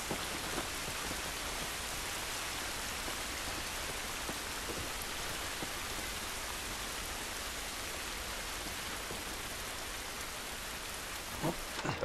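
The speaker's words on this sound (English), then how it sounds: "This rain ain't gonna do us any good." Steady rain falls in The Last of Us, a dense, even hiss with scattered drops and a faint low rumble of thunder, quiet and continuous with no talking.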